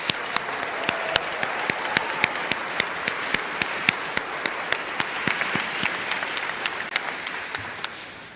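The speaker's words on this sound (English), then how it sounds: "we can give them a round of applause and thanks for all that they do" Audience at a professional commencement ceremony applauding steadily, a dense wash of clapping with sharper individual claps standing out, sustained at moderate level throughout.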